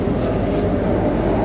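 Metro train at Cantonment station, a loud continuous rumble of wheels on track with a thin high squeal running through, close and steady.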